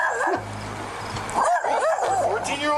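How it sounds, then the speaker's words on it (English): A dog yips and whimpers in short bursts during a police bodycam call about a battery incident, close by and mixed with ongoing talk and background noise. "Oh, that's a dog."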